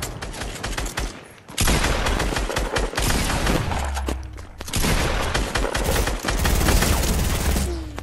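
Dense bursts of submachine gun fire in a video game, rapid volleys that stop briefly and then start again, loud and close for most of the stretch.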